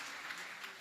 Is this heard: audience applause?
yes